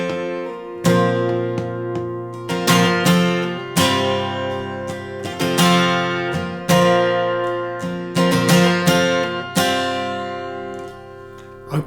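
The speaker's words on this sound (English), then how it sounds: "So the main guitar part is going to sound like this." Acoustic guitar with a capo strums the main chord pattern of a song, a steady rhythmic strum with ringing chords and regular accented downstrokes, played alone and close without any voice.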